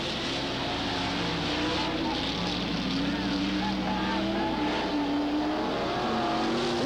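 Race cars lap the oval at Cottage Grove Speedway during the 1991 Fall Classic, a continuous roar of engines passing and revving in the distance while an announcer talks over the track noise.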